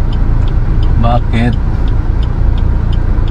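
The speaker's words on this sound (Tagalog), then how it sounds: "Grabe traffic, oh." Busy Philippine street traffic with cars and buses idling and creeping along, a steady close rumble of engines, while people talk briefly over it.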